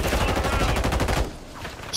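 Rapid burst of gunfire in a Call of Duty battle royale match, a quick run of sharp shots over about a second before cutting off into quieter game ambience.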